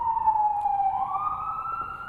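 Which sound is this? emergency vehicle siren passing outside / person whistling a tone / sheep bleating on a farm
emergency vehicle siren passing outside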